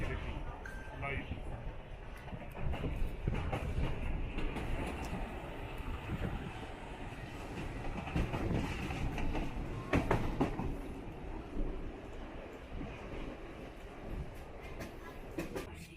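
A Cockle Train ride to Victor Harbor, South Australia: a steady rolling rumble of railcars with light clatter and rattles throughout, close and continuous, with faint voices mixed in.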